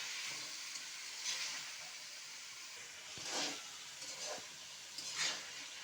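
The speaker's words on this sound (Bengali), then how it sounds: "এই যে মাছটা আমার মশলার সঙ্গে কষানো হয়ে গিয়েছে" Live lata fish sautéing in a pan with spices for a curry: a soft, steady sizzle and hiss with a few brief louder bursts as the pan is stirred, heard alone without talk.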